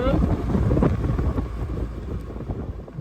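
Wind at about 15 knots buffets a sailboat at sea southeast of the Bay of Volos in Greece's Sporades, a loud, constant roar of gusts against the microphone, with a voice at times underneath.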